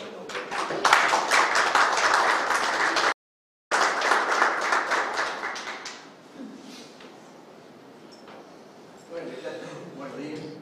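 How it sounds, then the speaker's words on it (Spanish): Applause from an audience at a professional seminar, bright and fairly loud, with a brief dropout in the middle, then fading to quieter scattered claps and room noise before a voice starts speaking. "Así que un aplauso a todos."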